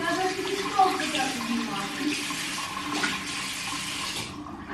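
Tap water runs steadily while hands are washed under it, a broad continuous splashing that stays fairly loud for most of the clip before cutting off near the end.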